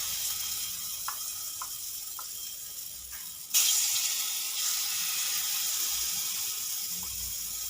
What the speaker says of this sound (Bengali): এবার আমি এক এক করে মুগ ডালের বড়াগুলো ভেজে নেব